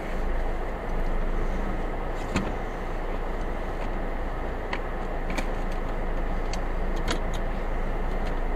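A car drives along a road, captured from inside by a Manta MM9359FS dashcam: steady engine and road rumble with faint clicks and rattles, constant and close, no voices.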